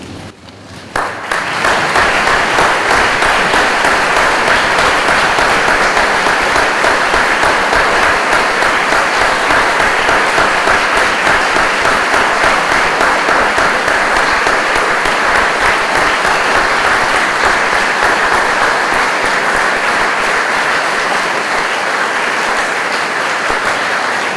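Loud, sustained applause from an assembled audience in a school hall at an opening-of-term gathering, honouring standing students; thick continuous clapping starts abruptly and holds evenly for over twenty seconds with no talk.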